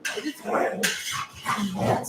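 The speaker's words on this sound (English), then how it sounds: "the dogs are going wild" Several dogs bark in bursts in a home kitchen, loud and a little distant, with pots and utensils clattering and people chatting over them.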